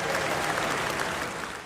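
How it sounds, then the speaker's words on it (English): A seated audience at a talk on change applauds itself in a short burst of steady, full clapping that fades slightly toward the end. "Give yourselves a round of applause"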